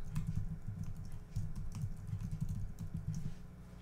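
Fast, irregular typing on a computer keyboard while coding a Unity3D tutorial, with dense clattering keystrokes running steadily throughout and no speech.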